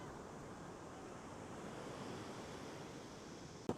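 Ocean surf washing ashore at Redondo Beach, heard as a steady, loud broadband roar of breaking waves with some wind noise on the microphone and a brief knock near the end.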